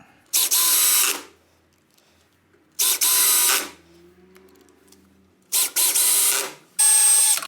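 Power drill driving screws into the wooden center frame of a stagecoach in a coach shop, heard as four loud separate bursts of whirring motor, each lasting about a second, with quiet gaps between and no talk.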